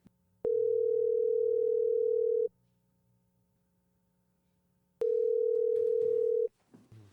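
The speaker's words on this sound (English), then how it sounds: "So let's see if we can get Charly on the phone" A telephone call being placed to a technician: two long steady ringback tones, the first about two seconds and the second about one and a half, separated by a quiet gap, with faint background noise after.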